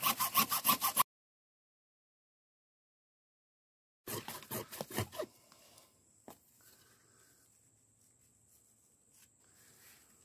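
A saw cuts teeth into the end of a 2-inch PVC pipe in short, rapid rasping strokes, two quick bursts separated by a pause, followed by faint scraping and handling noises.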